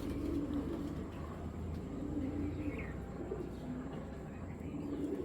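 A female pigeon from a collection of fancy breeds coos softly and briefly over a steady low background rumble, with no talking.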